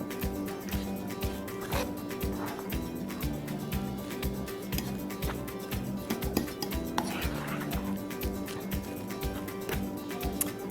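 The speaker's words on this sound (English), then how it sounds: "Mix everything together well." A spoon scrapes and clinks rhythmically against a bowl while mashed black beans, sweet potato and onions sautéed in coconut oil are stirred together for a Caribbean-style vegan burger, with steady close knocks throughout and no talking.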